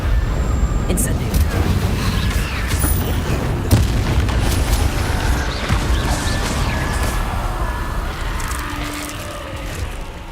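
Incendio fire spell cast in the Hogwarts Legacy video game, a continuous roaring burst of game effects with booming low rumble and crackle lasting throughout, loud and dense, with speech mixed in.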